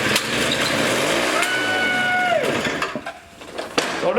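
A snowblower engine runs loud and close, its pitch rising and falling as the speed changes, then sputters and drops off before a few sharp mechanical clatters.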